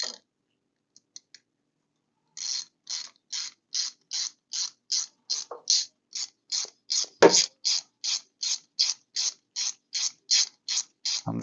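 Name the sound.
screwing a bolt into a racing go-kart brake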